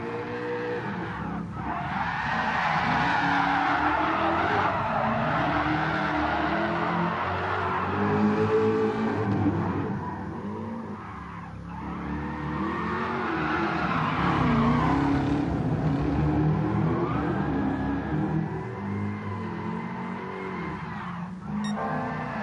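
Tires squeal and skid as a car drifts around the Tsukuba circuit in GT Sport. The engine rises and falls over long, sustained slides, with short breaks between drift passes.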